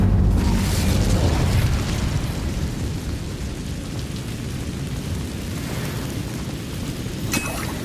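Casting the Incendio fire spell in Hogwarts Legacy releases a dense rushing roar of flame, strongest at the start and then a steady crackling burn, with a brief bright flare near the end.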